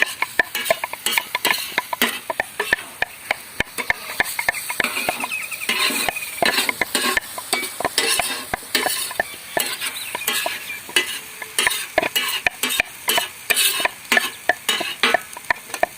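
Stirring cream (malai) into tawa chicken handi in a pot, a busy run of close metallic scrapes and knocks from a spoon over a soft sizzle, repeated irregularly throughout.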